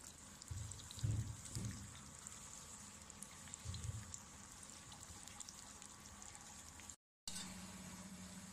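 Minnan five-spice rolls fry in blended oil heated over a medium flame, making a soft, continuous crackling sizzle with a few louder pops early on and a brief cut to silence near the end.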